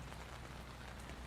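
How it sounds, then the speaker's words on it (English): Rain falling outdoors, a soft continuous patter of drops heard faintly. "It's raining."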